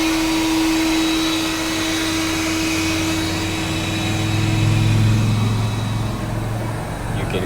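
A carpet encapsulation cleaning machine with a vacuum motor runs steadily and loudly, a strong whining drone holding throughout with a low rumble swelling midway, alone with no talk.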